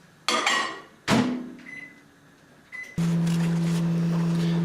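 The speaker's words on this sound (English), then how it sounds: "wrap them up in a paper towel, and chuck them in the microwave for about 30 seconds" A microwave door thuds shut, buttons beep twice, then the oven starts with a loud, steady electric hum that continues to the end.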